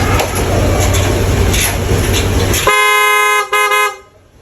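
Engine noise rumbles, then a loud car horn blares in one sustained honk with a brief break, before cutting off.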